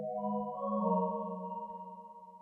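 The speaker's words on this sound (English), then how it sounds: "the sound this is based on is a sine wave" A pure, steady synthesizer tone holds smoothly, with a faint wobble toward the end as it fades slightly.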